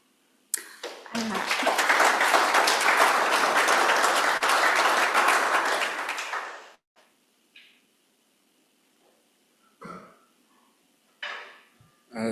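An audience at a panel event on wildlife trafficking breaks into loud, sustained applause for about six seconds, which then stops abruptly, leaving a few faint knocks and rustles in near silence.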